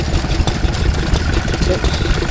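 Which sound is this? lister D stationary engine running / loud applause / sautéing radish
lister D stationary engine running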